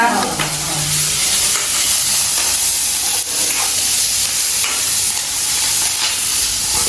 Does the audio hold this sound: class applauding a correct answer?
no